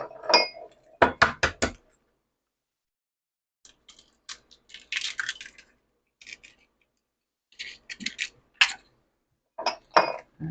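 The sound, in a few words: mixing eggs and sugar in a bowl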